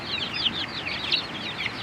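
Young Bangkok chickens, about 17 days old, chirp and cluck in a steady overlapping chorus at close range, with no voices over them.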